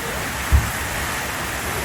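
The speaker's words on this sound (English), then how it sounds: "Now we've got hail." Hail falling outdoors at an Australian outback pub, a steady dense hiss of pellets striking surfaces with one brief thump, continuous throughout and fairly close.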